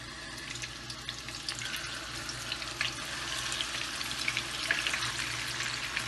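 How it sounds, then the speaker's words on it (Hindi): Half a cup of oil heats in a pan for frying seekh kebabs, producing a steady soft sizzle and crackle that gradually grows busier, close by with no talking. "थोड़ा सा ये गर्म हो जाए तो फिर हम फ्राई करेंगे। कबाब डालेंगे"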